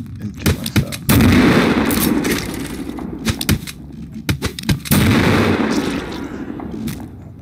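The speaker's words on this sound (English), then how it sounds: "I'm gonna throw a grenade and kill myself." Gunfire and blasts in the video game Killing Floor, including a grenade explosion: sharp cracking shots scattered throughout, with two big booming bursts around the first and fifth seconds that roar and decay, close and loud.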